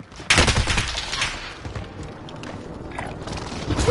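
Rapid bursts of gunfire in an online shooter video game, loud and close, with a heavy opening volley and continued shots and impacts across the clip.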